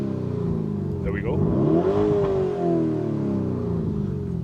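The engine of a 2024 Lamborghini Urus S revs up from inside the cabin, a deep rising drone that climbs in pitch and then settles, heard steadily over the full stretch with a voice talking over it.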